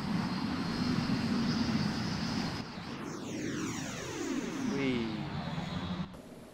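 A Me-262 jet takes off in IL-2 Sturmovik 1946, its engines roaring steadily before a sweeping whine that falls in pitch as the aircraft accelerates, loud and close, with someone talking over it.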